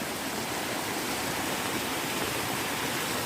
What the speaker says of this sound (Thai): น้ำตกธรรมชาติ